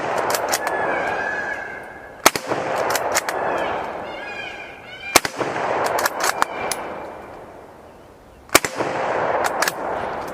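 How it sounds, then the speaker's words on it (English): A cheap rifle firing 7.62 NATO rounds outdoors: several sharp, loud single shots spaced a few seconds apart, with peacocks calling between them. "Whenever I start blasting rounds"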